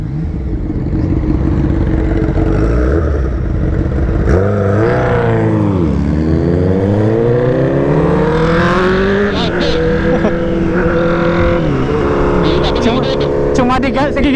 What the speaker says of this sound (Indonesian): Cuma digas, gigi satu, digas gitu doang